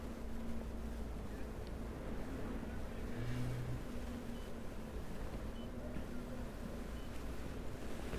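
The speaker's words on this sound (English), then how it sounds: "You see the wind here, it's pushing us" Steady wind and water rush around a Sunseeker 65 sport yacht docking in a marina, with a low engine drone underneath, constant and fairly loud throughout.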